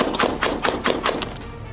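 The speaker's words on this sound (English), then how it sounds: "Shots fired, he's shooting." A rapid volley of about six sharp gunshots, fired in quick succession during a police standoff, loud and fairly close, with the sharp reports fading out toward the end.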